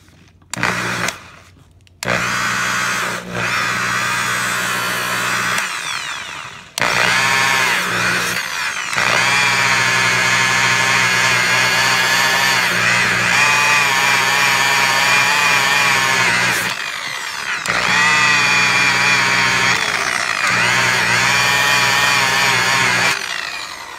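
A power buffer polishes an epoxy finish on wood, a steady loud motor whine that runs almost continuously, cutting out in short gaps near the start and briefly midway before resuming.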